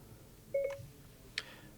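A Ferrari steering wheel button triggers the Siri activation tone, a quick pair of soft electronic beeps followed a moment later by a brighter short chime, quiet and isolated against a faint cabin hush.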